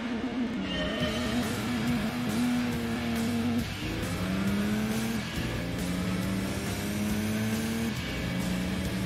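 A Nissan car in the PlayStation racing game Gran Turismo 2 revs loudly and continuously, its engine note climbing and dropping through gear changes for several seconds with no talk over it.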